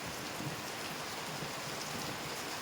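Steady rain falling outdoors, a constant soft hiss of drops at moderate distance with no talk and no breaks.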